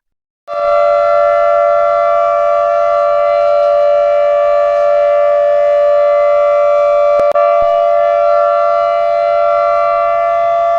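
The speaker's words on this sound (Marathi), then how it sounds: "महानगरपालिकेने दहा वाजून एकोणपन्नास मिनिटाने ते अकरा वाजेपर्यंत मौन पाडण्याबाबत सायरन वाजवण्यात आला." A municipal civil defense siren sounds for a silence tribute, one loud steady wailing tone starting after a half second of quiet and holding continuously, with a brief click partway through.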